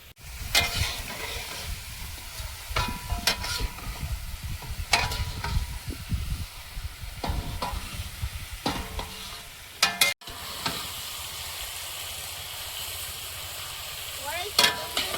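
A big metal spatula stirs meat in a wok while cooking lunch for fifteen guests, giving repeated scraping strokes over a steady sizzle of frying, close and fairly loud.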